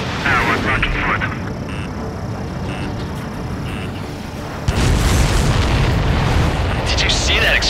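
In a video game, a supply ship explodes among the clouds with a heavy, sudden boom that swells louder partway through, set against ongoing game noise and talk.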